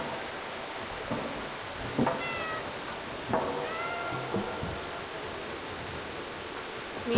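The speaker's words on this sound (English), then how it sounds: "Meow." Cat meows from the video game Stray, several short separate mews with harmonic, pitch-bending tails heard over a steady hiss of rain or ambient background noise.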